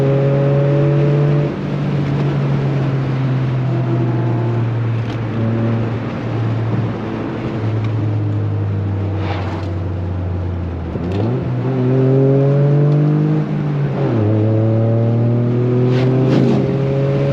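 A Toyota GR Corolla engine drones loud and close through the Tail of the Dragon mountain road, its pitch rising and falling with throttle and downshifts, with a brief rev around each gear change.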